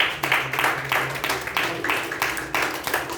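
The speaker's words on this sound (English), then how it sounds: "a huge round of applause to the youth leader of the day" A round of applause for the day's youth leader at a youth leadership session, heard as steady, fairly loud clapping with a rhythmic pulse of bursts about three times a second.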